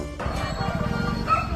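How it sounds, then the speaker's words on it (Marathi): Several dogs barking and yipping around a farm plot where dogs are clashing with a monkey, the barks overlapping in a steady, fairly loud stretch with some whimpering at a distance. "आजूबाजूला खूप कुत्र्यांचा आवाज"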